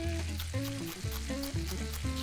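Celery gently sweating in butter in a pot for an Irish seafood chowder, a steady soft sizzle running throughout at moderate volume with no talking.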